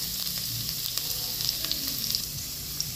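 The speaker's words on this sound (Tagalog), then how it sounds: "nakalagay na tayo na mantika, garlic, higisa ang garlic" Garlic sautés in hot cooking oil for squid adobo, giving a steady close sizzle with small crackling pops throughout.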